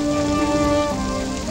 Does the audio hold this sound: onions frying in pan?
no